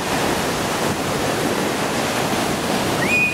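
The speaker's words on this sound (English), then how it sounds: "Big waves." Big ocean waves break on a shore as a loud, continuous roaring wash with no pauses, filling the scene without any voices.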